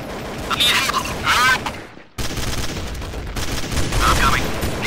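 Counter-Strike: Source gunfire on the de_halflife map, dense bursts of shots crackling loud and close, with in-game radio voice chatter over the firing and a brief drop to silence midway.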